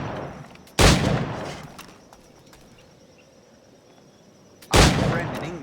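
Two loud firearm gunshots ring out in Assassin's Creed IV Black Flag, about four seconds apart, each decaying with a long tail over a quiet game background.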